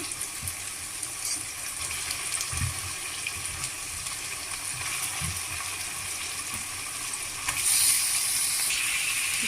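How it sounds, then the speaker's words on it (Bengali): Chicken tipped into a hot pan of softened tomatoes over a high gas flame, a continuous hissing sizzle with scattered rattling stirs that swells louder and brighter near the end. "টমেটোটা নরম হয়ে এসছে, এখন আমি চিকেনটা দিয়ে দিচ্ছি"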